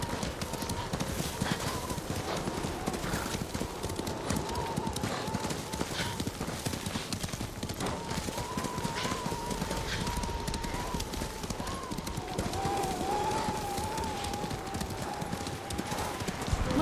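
Horses galloping in the video game Ghost of Tsushima, a continuous rhythmic clip-clop of hooves with an occasional whinny, under spoken dialogue between riders.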